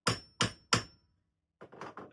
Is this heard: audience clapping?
no